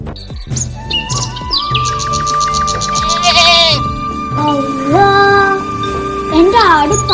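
A goat bleats several times in wavering, nasal cries, mixed with bird chirps and people talking nearby.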